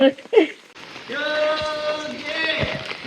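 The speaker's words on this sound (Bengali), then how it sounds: "কি বৃষ্টি!" Steady rain falls on a rainy day, a continuous close patter heard over an open umbrella, with brief voices at the start.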